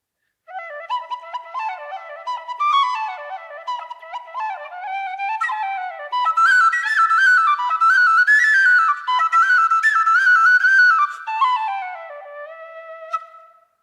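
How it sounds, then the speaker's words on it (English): An Irish tin whistle, also called a penny whistle, plays a lively ornamented melody solo, bright and close, with quick trills and runs that grow louder and fuller midway through. "So this is the Irish tin whistle."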